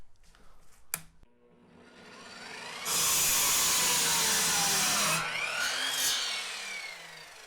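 A Tacklife EMS01A compound miter saw spins up with a rising whine, bites through a wooden board in a loud sustained cut lasting about two seconds, then winds down while coasting, preceded by a sharp click.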